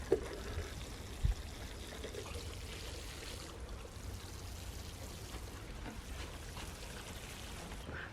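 A quiet, steady trickle of water pours without pause onto sugar snap peas on an allotment, with a couple of soft knocks near the start.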